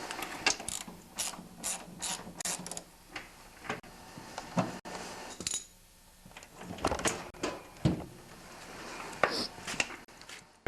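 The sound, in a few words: removing a bolt to separate a snowblower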